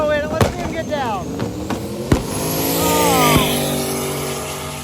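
A Ford F100 drag racing truck launching at a drag strip during drag week, with a loud engine roar rising and shifting in pitch, sharp cracks and pops scattered through, and a voice talking over it.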